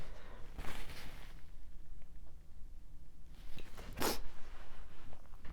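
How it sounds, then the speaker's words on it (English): A single sharp sneeze bursts out near the end, preceded by a softer breathy sound and quiet rustling. "I might sneeze, hold on."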